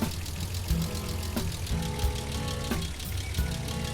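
A tractor engine idles in the Roblox farming game, a low steady chugging hum with faint periodic knocks, close and alone without talk.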